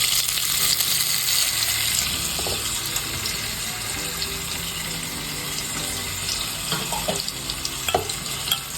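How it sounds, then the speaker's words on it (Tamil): Masala-coated boiled eggs frying in hot oil give a steady, close sizzle with occasional stirring clinks and splashes, without speech. "அவிச்ச முட்டையை போட்டு விரட்டி அப்படியே எண்ணெயில் போட்டுருக்கணும்"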